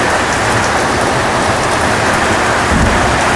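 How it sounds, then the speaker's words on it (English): Steady heavy rain with rolling thunder pours over an outdoor football match between Edgeworth FC and Newcastle Jets Youth, a dense continuous wash of downpour filling the whole stretch with no voices. "Plenty of rain about."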